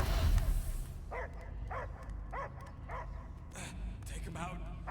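A dog barking in the video game Marvel's Guardians of the Galaxy, about six evenly spaced barks over a low rumbling game ambience, fairly close and moderately loud with no talk over them.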